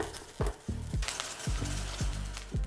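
Butter sizzling with croutons in a hot pan, a steady close crackle broken by repeated scraping strokes of a utensil stirring the pan.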